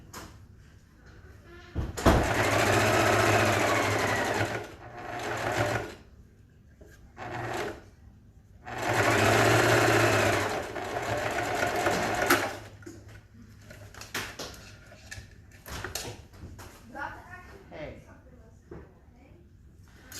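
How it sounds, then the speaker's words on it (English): Sewing machine stitching straight across a three-layer face mask with a filter pocket, two long bursts of steady motor whir separated by pauses, with quieter handling noises and a voice talking in between. "And then just sew all the way across, making sure that you open up that seam again at the midpoint."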